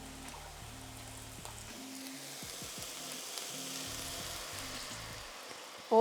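A honey sauce sizzles steadily in a hot pan, a close, continuous frying hiss with faint stirring scrapes beneath it and a brief bump at the end.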